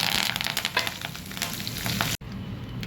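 Curry leaves crackle and sizzle in hot oil already holding mustard seeds, cumin and dried red chillies for a dal tempering, a dense close spitting fry that stops abruptly near the end.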